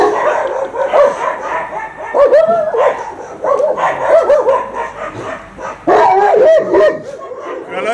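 Several dogs at a dog shelter bark and yip continuously, loud and close, with whimpering mixed into the overlapping barks.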